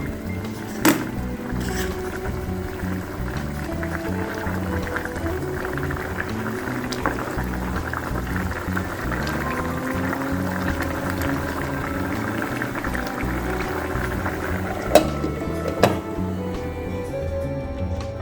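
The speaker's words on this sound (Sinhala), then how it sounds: "මේක වහලා මද ගින්දරේ හිමින් තැම්බෙන්න දෙන්න." Baby jackfruit curry simmers covered in a pot over low heat, giving a steady soft bubbling that runs the whole time, with a few faint clicks and knocks now and then.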